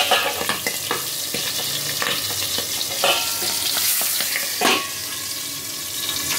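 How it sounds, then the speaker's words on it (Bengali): Loud frying sizzle with sharp crackling pops and spatters bursting irregularly as boal catfish fries in hot oil, close by. "একদম মারাত্মক ফাটে বোয়াল মাছ"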